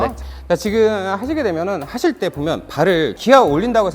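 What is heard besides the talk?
No everyday noise stands out behind the speech.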